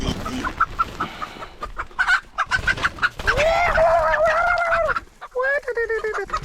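Hens cluck in short repeated bursts at close range in the Moroccan countryside, with a few longer squawking calls toward the end.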